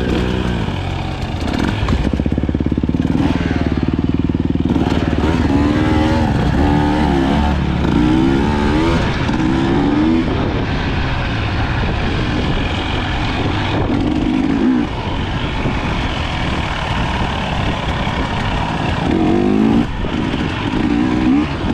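A KTM 250XCW two-stroke dirt bike engine revs hard while being ridden at a trail resort, a loud, close, continuous buzz that rises and falls as the throttle changes, with no talking.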